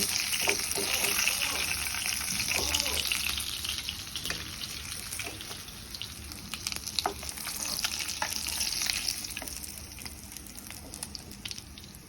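Fish fries in oil at medium heat for a Bengali dinner, a continuous hiss and crackle heard close, with scattered clinks and some watery background noise.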